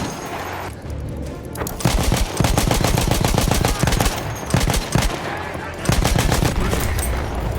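Battlefield 1 combat with World War I weapons: rapid bursts of gunfire and machine-gun fire, starting sparse, then sustained, loud and close, with dense repeating shots.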